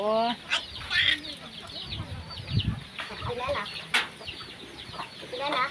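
Laying hens cluck and squawk close by in a farmyard, a busy run of short repeated calls and cackles, with a person speaking briefly among them.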